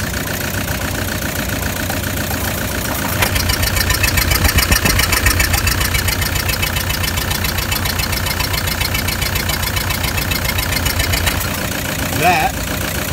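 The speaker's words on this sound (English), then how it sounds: "That is a cracked piston, unfortunately." Close, loud diesel idle from an engine with a cracked piston, a persistent rhythmic knock in the rumble, briefly revving louder midway; a voice speaks faintly over it.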